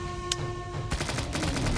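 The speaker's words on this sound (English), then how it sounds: "it actually sounds like a real, like, silenced, half-silenced kind of gun" Half-silenced gun in a sandbox video game firing a rapid burst of muffled, crackling shots, following an earlier single pop; the volley is steady and fairly loud, with no talking over it.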